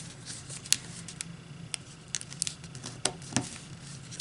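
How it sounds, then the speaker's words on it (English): Paper corners folded toward the center for an origami Yoda head, soft close crinkles and sharp creasing taps scattered irregularly over a quiet background. "take these two corners like this and fold them to the center too"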